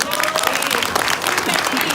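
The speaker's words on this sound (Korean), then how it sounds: "더 뜨거운 박수 한번 부탁드립니다" An audience at a political party education lecture in Korea applauds, dense continuous clapping from a crowd filling the room at steady loudness, with a voice faintly under it.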